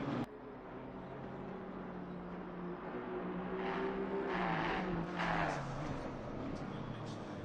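BMW race car in a racing game's endurance race at Suzuka, engine note rising and falling through the Degner corner, a droning pass growing louder then easing away, with commentary voices beneath.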